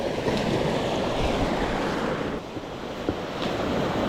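Sea waves break on the shore of the Camargue coast during fly fishing for sea bass, a continuous rushing wash of surf with wind buffeting the microphone and no voices.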